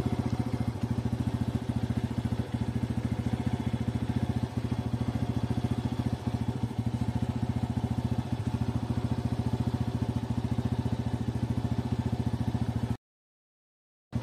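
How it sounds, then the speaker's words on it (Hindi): A BS6 2022 TVS Radeon motorcycle engine idles steadily and close by, a continuous even putter with light mechanical clatter, running alone for about thirteen seconds before cutting to silence. "तो बाइक अभी स्टार्ट कर ली है"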